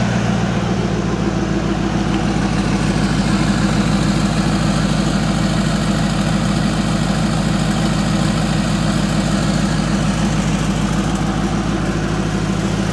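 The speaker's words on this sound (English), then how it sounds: "Let me hear it from out back here." Heard from behind at the exhaust, a classic custom car engine idles steadily, with a deep, even low rumble and faint vibration. The sound holds continuous and fairly loud with no talk.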